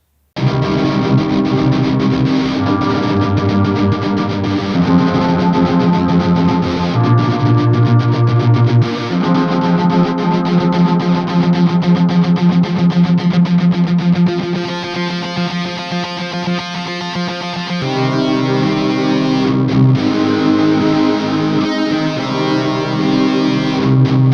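Basic rock chord progression strummed on heavily distorted electric guitar, a dense, continuous wall of sustained chords changing every few seconds, loud and alone with no talking.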